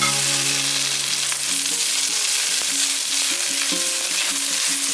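Napa cabbage stems stir-fry in a hot wok with celery, making a loud, continuous sizzle with scattered clicks and scrapes of the spatula throughout.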